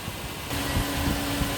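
A Lexus LX470 engine runs at a steady idle, heard as a constant close hum with a faint low rumble and a slight shift in tone partway through.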